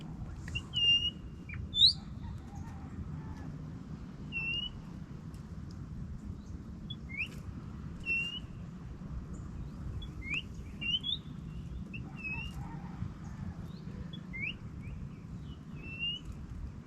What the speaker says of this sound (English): There's a couple of these warblers coming in really close